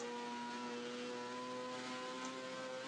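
A modded car in the racing game Assetto Corsa accelerating at part throttle, its engine a steady, close, buzzing drone with strong harmonics that holds level throughout, with no talk.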